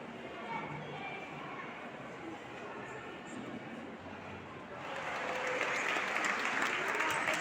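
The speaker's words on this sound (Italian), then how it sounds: "Un applauso a Don Bosco che entra in chiesa." Applause from a crowd as a statue of Don Bosco enters a church during a festival in Modica, building to louder, denser clapping partway through, with voices murmuring underneath.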